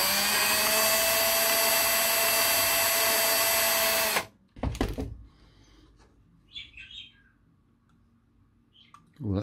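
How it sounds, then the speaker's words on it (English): An electric drill with a 3.5 mm bit whines steadily and loudly for about four seconds, then stops abruptly, followed by clatter and faint chirps in a quiet room. "I think I might need a slightly larger drill"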